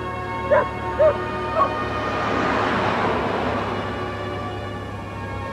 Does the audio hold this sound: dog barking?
yes